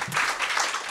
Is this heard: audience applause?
yes